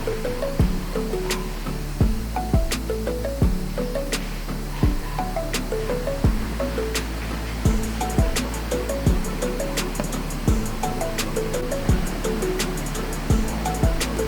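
A Panasonic ECONAVI fully automatic washing machine churns with steady rhythmic thumps and a constant low rush of water draining from the tub, close and fairly loud throughout.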